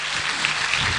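Audience applause at a graduation ceremony, a short burst of dense clapping heard steadily throughout with no voices over it.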